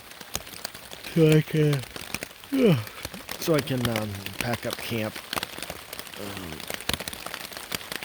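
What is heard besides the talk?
rain falling on campsite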